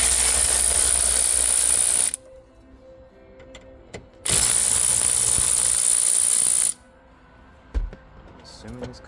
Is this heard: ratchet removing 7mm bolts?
yes